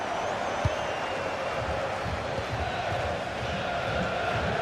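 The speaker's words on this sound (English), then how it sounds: "Well, just listen to this crowd. They want a bit more." A stadium crowd in a football video game roars in a steady, dense wash of noise throughout, with no talk over it.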